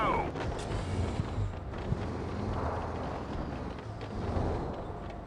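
In World of Tanks, a tank gun fires and a tank's ammo rack blows up, heard as a loud booming blast fading into a long, dense rumbling roar.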